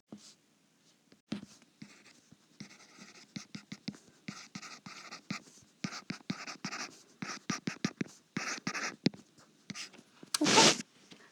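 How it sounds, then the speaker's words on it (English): Pen writing by hand on paper while working out a rational function for a math lesson, a steady run of close scratchy strokes and taps with short pauses, ending on one louder rustle. "So let's just take a minute and write that in."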